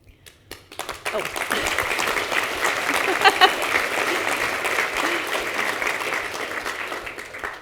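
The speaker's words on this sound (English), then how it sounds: "I think that's the first time I've been clapped for that." An audience at an awards luncheon breaks into sustained applause after a few isolated claps, a dense, steady wash of clapping that swells and holds for several seconds.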